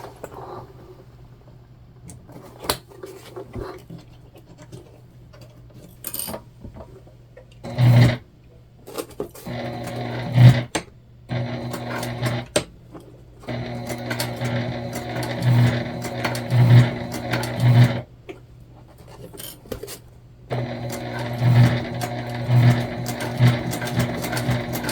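Home sewing machine top stitching a fabric bag, running in several short bursts of rapid, steady stitching separated by pauses and small handling clicks, close and fairly loud.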